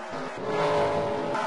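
Race cars at a NASCAR Xfinity Series race at Chicagoland under caution as a car spins in the grass, a steady loud engine roar with some pitch movement and no talk over it.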